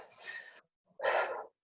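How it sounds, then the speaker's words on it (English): Heavy breathing after a home hamstring and ab workout: two loud, rough breaths, a long exhale followed by a sharper gasping one, close to the microphone. "Who's heavy breathing?"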